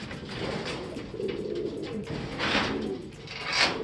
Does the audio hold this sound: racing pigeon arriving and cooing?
yes